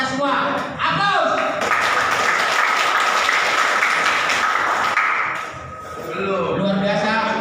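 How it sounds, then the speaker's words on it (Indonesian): An audience claps and cheers at a community gathering in Belawan, a swell of applause that rises after a speaker's voice and fades as talk resumes. "Aplaus."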